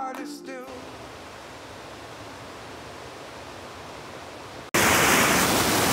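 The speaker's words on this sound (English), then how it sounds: "not sure you can hear me because of the rushing water" Rushing water roars steadily beside a mountain campground on the John Muir Trail, a constant broadband wash that surges suddenly louder and closer near the end, with a brief musical bit at the start.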